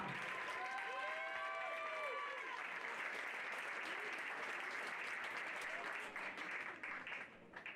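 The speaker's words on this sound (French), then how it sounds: "Vous pouvez les applaudir" A seated audience at a pony games prize-giving applauds the bronze-medal minime club team, a dense steady wash of clapping that holds throughout and thins slightly near the end, with faint voices and a few tonal sounds early on.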